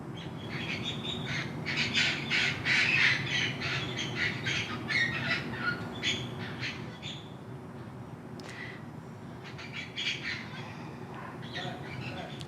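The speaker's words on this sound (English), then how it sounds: "The loudest birds of all time." A dense, continuous chorus of loud squawking birds calls repeatedly over a steady low rumble, with no voices.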